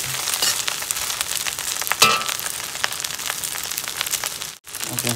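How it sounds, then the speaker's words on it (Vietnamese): Hong Kong-style shrimp fried rice with garlic being stir-fried in a pan: a steady, close sizzle broken by scraping stirs and spatula clicks, with a short pause near the end. "cơm mình chiên tỏi này là được rồi nha các bạn"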